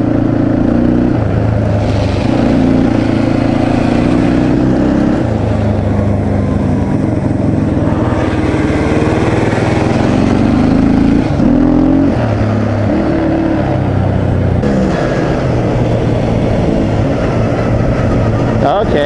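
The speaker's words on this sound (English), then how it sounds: "a two-stroke quad is always mint" A two-stroke four-wheel-drive quad runs steadily and loudly for the whole stretch, its engine droning with slight shifts in pitch, while people talk over it.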